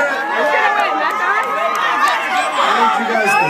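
A crowd at a pie eating contest cheers and shouts continuously and close by, with mixed voices and excited chatter throughout.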